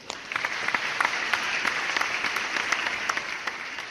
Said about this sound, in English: Let's give these winners a round of applause.